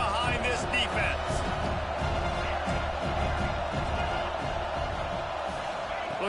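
Football stadium crowd roaring for the home defense on a third down in a college football game, a dense continuous wall of cheering and noise with commentary voices over it.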